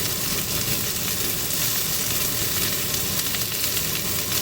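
Napa cabbage spread out in a hot pan for a quick stir-fry gives off a steady, dense, close sizzle that holds at an even level throughout, with no voices.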